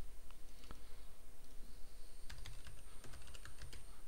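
Fingers type on a computer keyboard to enter a file name, a soft, quick patter of key clicks in irregular bursts, close and fairly quiet.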